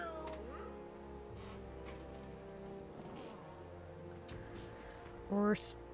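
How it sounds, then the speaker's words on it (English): A single loud video-game cat meow rises near the end over a soft, steady game soundtrack. "I heard a meow."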